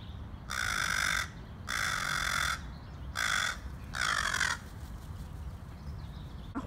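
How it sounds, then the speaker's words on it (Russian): A crow perched by scattered garbage caws four times in loud, harsh bursts of roughly half a second to a second each, evenly spaced, with no talk over it. "Хитрая ворона."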